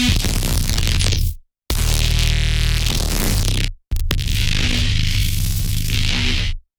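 A harsh, dense designed sound effect for a Destiny 2 sound redesign, made by running bounced audio through the same processing chain again, arrives in three loud noisy bursts separated by abrupt silent cuts, one with a pitched, buzzing tonal layer.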